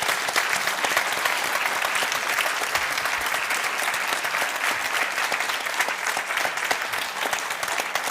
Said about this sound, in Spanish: Un gran aplauso para los autores.